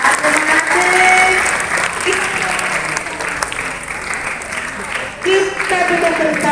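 Schoolchildren in an Indonesian classroom clap together in loud, led rounds: single and multiple claps, then a long burst of fast applause, with children's voices and a teacher's voice over it.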